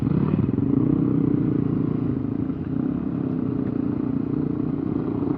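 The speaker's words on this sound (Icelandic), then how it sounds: "Það er að tínast hér inn. Alls konar hjól." Assorted trail motorcycles rolling in to a spring group-ride meetup, a steady loud rumble of several idling and revving engines close by with some mechanical clatter, no voices.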